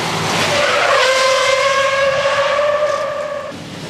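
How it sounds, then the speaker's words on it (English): Stunt cars skid during a street film shoot in New York, tires squealing in one loud, sustained, tonal screech lasting several seconds before fading. "On action, all the cars and stunt cars go."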